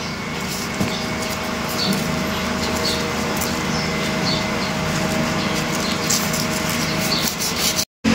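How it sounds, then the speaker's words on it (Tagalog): Steady, continuous rubbing and scraping of abrasive against a metal pipe, sanding it clean before soldering, close and even, with no talk, cutting out briefly near the end. "Liliyahin muna natin para sure malinis yung tubo"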